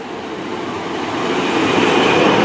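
A train pulls into Ashchurch for Tewkesbury station, a broad rushing roar of rolling stock that builds steadily louder as it draws close, with faint rail clatter and no voices.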